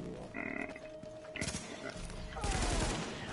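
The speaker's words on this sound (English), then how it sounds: "Are you getting gunfire already?" Gunfire in a PS4 online shooter erupts in two loud bursts of rapid shots, dense and close, mixed with game sounds and other noise.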